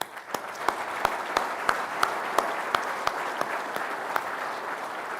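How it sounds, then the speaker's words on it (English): An audience claps steadily for several seconds, a dense patter of hands with a few sharper claps standing out, fairly distant and even. "Please join me in giving them a round of applause."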